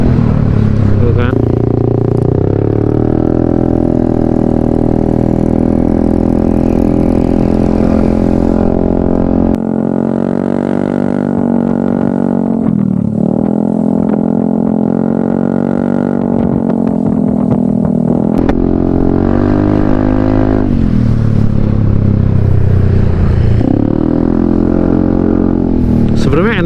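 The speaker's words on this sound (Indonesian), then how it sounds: "enaknya knalpot bersuara ya" A Yamaha Aerox scooter fitted with a Krace Ultra Samlong aftermarket exhaust, riding uphill with a steady droning engine note that rises and dips through throttle changes, while someone talks over it throughout.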